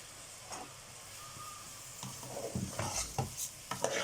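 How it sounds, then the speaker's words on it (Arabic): Food being sautéed in butter in a pan while a utensil stirs it, with a soft sizzle under a few close scraping knocks that grow busier toward the end. "نشوح كده في الزبدة"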